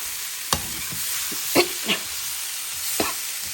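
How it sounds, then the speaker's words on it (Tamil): Lotus stem fries in oil in a kadai, a soft continuous sizzle with a few sharp crackles and pops spaced through it, close and fairly quiet, with no talking. "அந்த தாமரை தண்டு கடாயில் எண்ணெயை போட்டு அவ்வளோதான், அப்படியே ஃப்ரை பண்ண வேண்டியது தான்."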